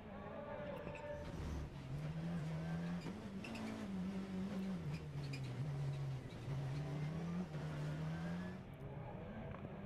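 Rallycross Supercar engines roar continuously at close range on a French track in 2014, one car's pitch rising and falling through gear changes, with a commentator talking over the engine noise.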